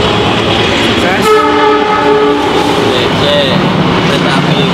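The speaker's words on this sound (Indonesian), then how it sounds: "Kereta api Pak." A loud train rolls past with a steady rumble and rattle, and a series of stacked horn tones blares for about a second midway; a person's voice is faintly present under the noise.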